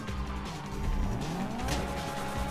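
In GTA 5, a car revs, accelerates away and squeals its tires, with a rising engine tone and a brief screech near the end. The sound is fairly close and loud, with no clear talking.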